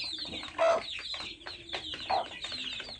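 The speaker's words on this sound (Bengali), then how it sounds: "এই আমার টাইগার মুরগির বাচ্চা" Tiger-breed chicks on a small poultry farm chirp in quick, overlapping high peeps, close and fairly soft, with a few louder cheeps standing out.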